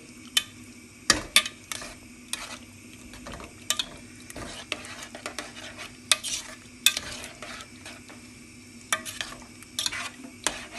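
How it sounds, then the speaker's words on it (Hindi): Cream is stirred into pork adobo in a pan, with sharp scattered clinks and scrapes of a spoon against the metal over a low steady sizzle, close up and irregular. "हांव आतां क्रीम घालता. ओके, आनी बरें मिक्स कर."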